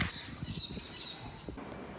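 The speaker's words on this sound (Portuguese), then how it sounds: "Até os passarinhos estão felizes." Birds squawk faintly outdoors in the background, a few thin calls over a steady ambient hiss with no one talking.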